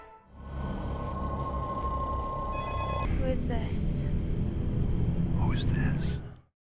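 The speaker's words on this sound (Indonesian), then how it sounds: "Jill lagi dan lagi mendapatkan telepon" In a thriller film scene about a babysitter targeted by a killer, a telephone rings with a steady electronic tone that cuts off sharply and gives way to low rumbling and faint whispery sounds.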